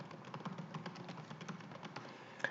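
A title being typed on a computer keyboard: a quiet, steady run of quick key taps with a slightly sharper click near the end, heard alone without talk.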